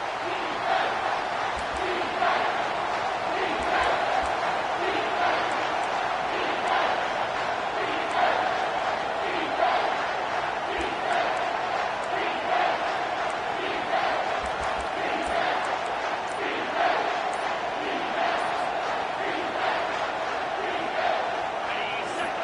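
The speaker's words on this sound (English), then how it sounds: "Decibels rising as the crowd gets behind this defense on third down." A football stadium crowd roars for the defense on third down, a loud sustained wall of cheering with rhythmic surges and swells throughout.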